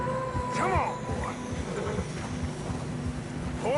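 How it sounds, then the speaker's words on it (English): In a video game, horses trudge through deep fresh snow, with a soft irregular plodding of hooves and snorts, an occasional whinny, and ambient wind, under low background voices. "Horses are struggling."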